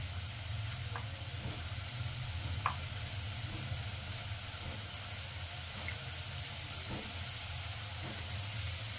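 Potatoes frying in a pan give a faint, continuous sizzle and hiss with a few soft clicks and pops scattered throughout.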